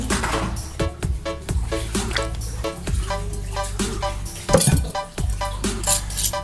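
Shrimp chip batter with egg and ground spices stirred in a bowl, a spoon clinking against the side in a quick irregular rhythm, close and fairly loud.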